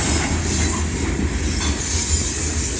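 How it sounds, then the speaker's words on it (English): A train rolls through a college town, its railcars rumbling steadily with a continuous high wheel squeal and faint clickety-clack, loud and close, with no talk. "The train's about done."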